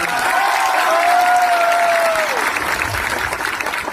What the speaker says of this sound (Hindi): ताली मारो उसके लिए भी